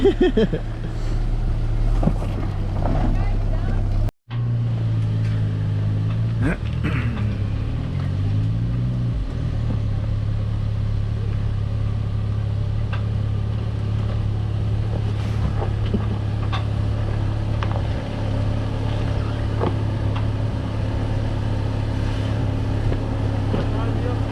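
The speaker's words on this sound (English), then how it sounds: "This little motor is so much easier to control." A small boat motor runs steadily with a continuous low drone, wind buffeting the microphone and voices talking over it near a camping spot on Drummond Island.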